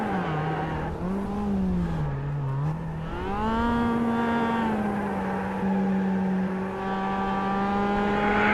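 A Mazda race car in the iRacing sim holds a continuous high-revving engine note that wavers up and down as it does burnouts, loud and close with no speech.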